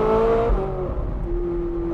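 A Ferrari 458 engine in race mode with traction control off, a loud steady drone that drops in pitch partway through then settles into an even hum.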